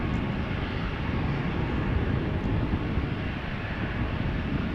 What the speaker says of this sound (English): After the Embraer 175 is taken off